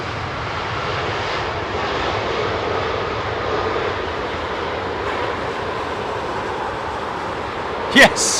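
An aircraft arrives at London Heathrow Airport with a loud, steady jet-engine roar that fills the whole stretch, ending in a brief sharp bump near the end.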